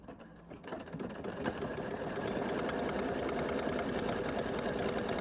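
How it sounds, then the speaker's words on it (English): Sewing machine stitching the corner of a quilt block, a steady fast mechanical whirr that starts after a brief pause and runs continuously at close range with no talking. "And now I'm going to stitch the corner into place."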